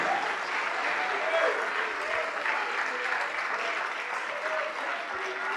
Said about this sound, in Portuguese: Vamos aplaudir mais, igreja, vamos aplaudir mais.